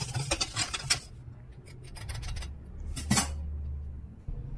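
A utensil stirs condensed milk, evaporated milk and melted butter in a bowl for cassava bibingka, with quick clinking scrapes in short bursts and pauses, close and fairly quiet, with no talking.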